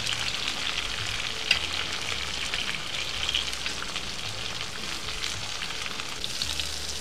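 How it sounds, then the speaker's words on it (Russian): Eggplant fries in a sadj pan with a steady, dense sizzle and crackle that holds at a constant level, broken by one brief sharp tick, with no talking. "Обжариваем баклажаны."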